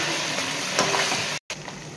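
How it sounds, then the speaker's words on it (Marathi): Ginger-garlic paste frying in a pan for mutton biryani, a steady close sizzle with one brief cut-out near the end. "अशा प्रकारे आलं लसणाची पेस्ट छान फ्राय करायची।"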